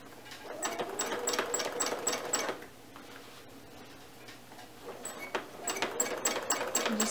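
Sewing machine doing free motion quilting in a triangle twist pattern, quick rhythmic stitching in two bursts separated by a short quiet pause.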